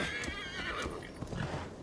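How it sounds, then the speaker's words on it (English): A horse in the video game Assassin's Creed Valhalla gives a clear, close whinny over hoof clip-clop and steady ambient game noise. "just let me call my own horse."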